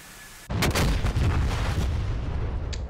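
A bomb dropped from an F-16C strikes oil tanks in the DCS flight simulator, a sudden loud blast that opens into a long rumbling roar, with a faint later crackle fading out, no voices.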